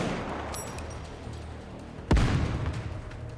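Gunfire from the video game Nikke, a burst of small clicks and pops followed by one sharp, loud blast that rings out and decays under a low rumble.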